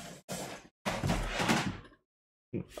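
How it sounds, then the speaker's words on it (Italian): A modem is dragged off by its cable and falls, giving several loud, close clattering thumps and scrapes in broken bursts, with silent gaps between them and no voices. "Ho tirato giù il modem."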